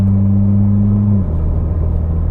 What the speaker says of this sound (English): The gear shifts are just instant, but they're actually really smooth, surprisingly